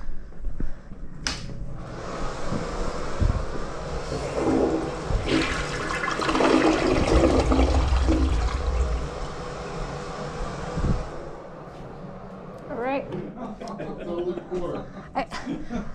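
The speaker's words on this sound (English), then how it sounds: "do you mind if I flush it real quick?" A toilet flushes with a loud, rushing swirl of water lasting about ten seconds before fading into a refill trickle, with people talking and chuckling around it.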